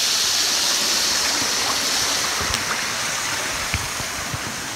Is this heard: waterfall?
yes